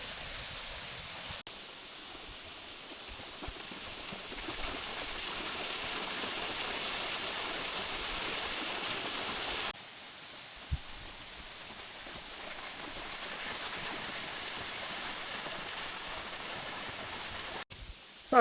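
A waterfall roars as a steady, dense rush of broadband water noise, close and constant throughout with no voices, briefly dropping in level partway through before continuing.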